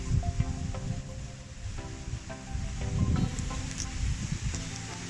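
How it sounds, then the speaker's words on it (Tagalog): Strong wind gusting on a mountain top after days of rain and storm, a rough, blustery rush buffeting the microphone in uneven surges, fairly faint overall with no talking. "Ang lakas ng hangin."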